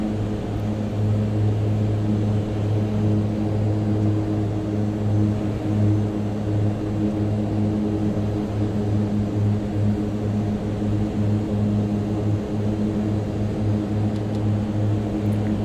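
A Mitsubishi MU-2 turboprop in a flight simulator drones steadily at high power during the takeoff roll, a continuous dense engine and propeller hum with no talking.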